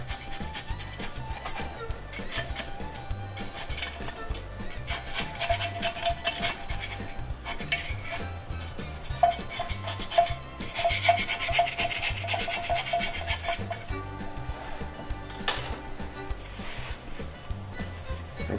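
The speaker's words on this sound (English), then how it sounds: "I'm going to take a knife and go down the edge." A knife run around the inside edge of a pan of warm homemade fruit cake, heard as a long, continuous rubbing and scraping close by, steady throughout with slight swells and no talking.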